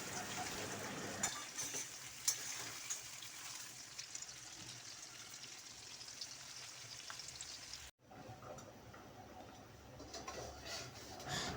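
Fish curry gravy boiling on a home stove, a steady low bubbling and faint sizzle running throughout, with a brief dip near the end before the simmer continues.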